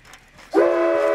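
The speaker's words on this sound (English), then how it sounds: "Five chime whistle." A five-chime train whistle blasts abruptly after a quiet moment, a sustained, loud, chord-like tone held steadily to the end.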